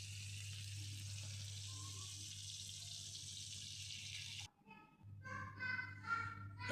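Katla (rohu-type carp) fish pieces frying lightly in oil in a pan, a steady broadband sizzle that runs continuously, briefly drops out near the end, then resumes with some clattering.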